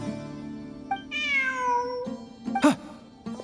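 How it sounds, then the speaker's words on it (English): A cat meows in the video game Genshin Impact, one long drawn-out meow followed by a shorter sharp mew, over soft game ambience. "Look, a cat."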